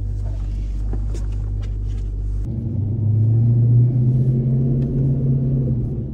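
Dodge Hellcat engine rumbling steadily, then rising into a stronger, smoother rev as the car pulls away and accelerates, loud and close from inside the cabin.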